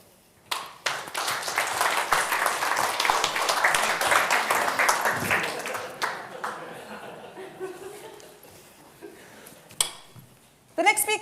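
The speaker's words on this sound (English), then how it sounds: "So big round of applause for the next speaker." An audience at a Jade User Group 2024 event claps for the next speaker, a dense burst of applause that fades into talking and laughter.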